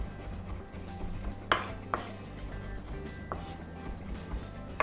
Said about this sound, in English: to make a finer dice, we're going to use a hands-free roll cut